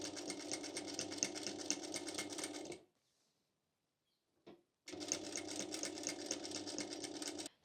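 A sewing machine stitches an outside seam on thrifted clothing with a dense, even mechanical whir, running about three seconds, pausing briefly with a small click, then resuming steadily for the remaining seconds.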